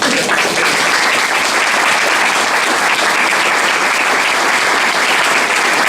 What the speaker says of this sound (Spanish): ¿Puedo pedir un aplauso para tu familia?